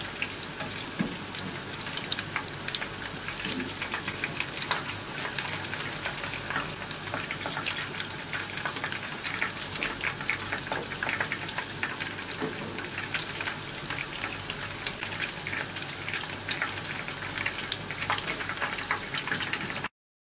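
İçli köfte, stuffed bulgur meatballs, fry in hot oil with a steady, even crackling sizzle that runs on without a break at moderate volume.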